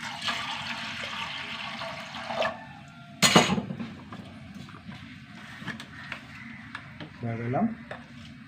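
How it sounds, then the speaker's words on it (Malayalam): Water pours into lentils that were washed two or three times, being cooked without coconut for sambar in a home kitchen. A steady splashing fill is followed by a sharper burst of pouring and some clatter, with a voice speaking nearby. "കുറച്ച് വെള്ളം ഒഴിച്ച് കൊടുക്കട്ടെ കേട്ടോ"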